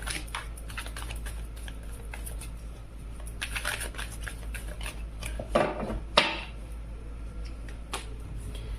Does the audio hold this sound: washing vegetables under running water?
no